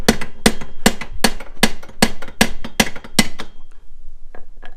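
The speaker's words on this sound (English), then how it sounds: "we're going to take our sledgehammer here, mini sledge" Mini sledgehammer blows on the front suspension of a 1997 Chevrolet Camaro, knocking a ball joint stud loose: about ten sharp, evenly spaced metallic strikes close by, followed by a few faint clinks.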